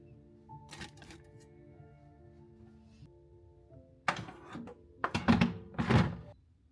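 A tray of butternut squash with its seeds, sprayed with olive oil and seasoned, goes into a home oven: a low hum, then several sharp clunks and metallic bangs as the rack slides and the door shuts.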